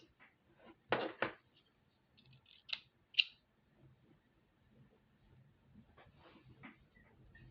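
Small scissors snipping the thread on a bead-embroidered bracelet: a few sharp close clicks and snips, spaced apart in a quiet room, with faint handling sounds between.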